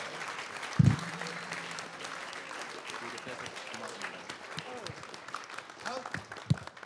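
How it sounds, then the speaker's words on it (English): An audience at an awards ceremony applauds steadily, a crowd clapping at moderate volume with one sharp thump near the start and voices mixed in. "That deserves a round of applause."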